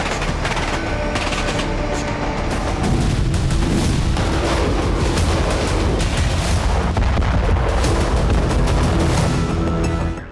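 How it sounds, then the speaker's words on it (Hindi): A loud blast rings out at night on a Russian military base, followed by a dense, sustained wash of noise in which parked vehicles' car alarms keep sounding, steady and close, with no talking. "रात के अंधेरे में एक तेज धमाका होता है, जिसके बाद वहां खड़ी गाड़ियों का सिक्योरिटी अलार्म बजना शुरू हो जाता है"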